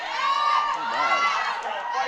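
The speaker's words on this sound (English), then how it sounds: "You can just hear the crowd." A crowd at a powerlifting competition yells and cheers during a lift, with loud overlapping shouting voices forming a continuous, close roar.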